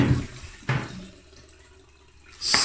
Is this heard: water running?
yes